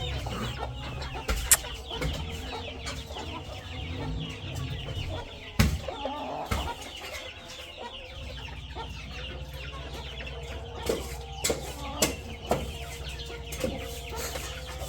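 A rooster clucks on a farm in a series of short, irregular clucks over steady low background noise, with a few louder sharp knocks and bursts scattered through.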